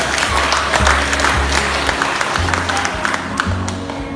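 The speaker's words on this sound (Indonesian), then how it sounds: "Tepuk tangan untuk kita." A parish family pastoral retreat audience applauds, loud dense clapping filling the room for about four seconds, with a low rhythmic musical thump running beneath it.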